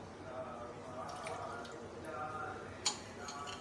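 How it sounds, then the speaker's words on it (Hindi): Warm water poured into a bowl with sugar to start pizza dough yeast, a soft, steady trickle and drip with a brief clink near the end, under faint background noise. "और गर्म पानी डाल दूँगी।"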